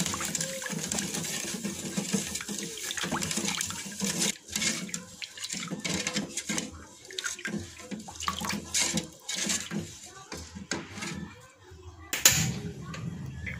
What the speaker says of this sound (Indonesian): lalu tambahkan air sebanyak 900 ml